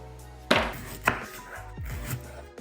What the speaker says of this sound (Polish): Pora kroję już w taki sposób, jaki chcę, żeby docelowo był w sałatce.